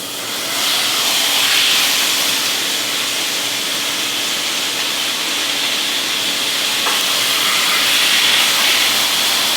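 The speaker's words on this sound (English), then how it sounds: "we're gonna start browning the cheeks. All right? So, I'm not adding any oil for now." Beef cheeks browning in a hot pan without oil, giving a loud, continuous sizzling hiss up close, steady throughout with slight swells, and nobody speaking.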